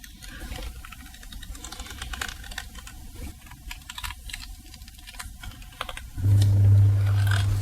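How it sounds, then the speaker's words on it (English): A sharp blade snaps through the leather stitching on a BMW E46 330Ci steering wheel in a quick run of small, close clicks, followed by a louder low rumble toward the end. "I'm gonna cut all the stitches here."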